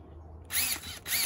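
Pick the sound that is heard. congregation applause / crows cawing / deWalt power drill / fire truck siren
deWalt power drill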